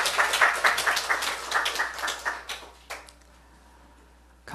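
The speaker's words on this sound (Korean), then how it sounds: "도와주신 하나님께 박수 올려드려요" A church congregation at a Sunday service applauds, a burst of many hands clapping that fades over a few seconds into near silence with a few stray claps.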